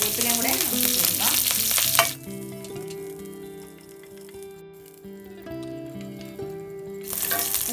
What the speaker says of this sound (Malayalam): പച്ചമുളകും പച്ചമുളകും കറിവേപ്പിലയും കൂടെ നമുക്ക് ഇട്ട് കൊടുക്കാം.